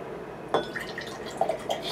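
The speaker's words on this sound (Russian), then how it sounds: "вот я наливаю себе плод виноградной лозы" Wine pours into a glass in a brief close trickle, with a soft splash at the start and a few small liquid drips after.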